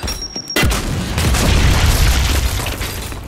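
A frag grenade detonating in Gears 5 Horde mode, an abrupt loud boom after a brief quiet moment, followed by several seconds of heavy rolling rumble and debris.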